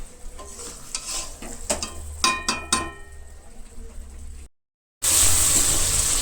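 Chicken curry is stirred in a pot, with a utensil scraping and clinking against the metal in quick strokes over a steady sizzle, then a brief silence before louder frying resumes.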